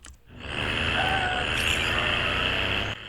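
Heavy truck driving in the mobile shooter game Call of Duty Mobile, a steady loud engine drone with broadband road noise that holds evenly for about three seconds before easing off at the end.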